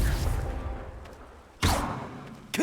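Confringo fire spells cast in Hogwarts Legacy, heard as two sharp, bright bursts with whooshing tails, one in the middle and one at the end, over a low ambient rumble with no speech.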